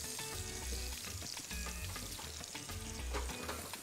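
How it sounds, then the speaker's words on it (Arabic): Slices of toast fry in a generous amount of ghee, giving a steady, close crackling sizzle with soft stirring or scraping bursts and no talk. "هنحمر فيها التوست"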